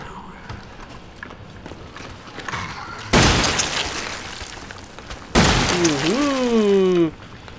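Two loud shotgun blasts in Resident Evil 7 on PC, the first sudden broadband burst with a long decaying tail and the second followed by a creature's warbling, pitch-bending cry, all over a low game ambience with faint footsteps.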